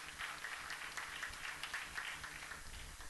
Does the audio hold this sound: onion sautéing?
no